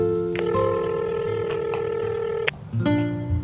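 Telephone dialing a call: a series of short keypad tones in quick succession, followed after a brief gap by further tones, clear and close.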